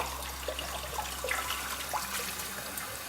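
Water runs and trickles steadily from a tap, with faint splashes and clinks as cooked meat is rinsed underneath in cold water.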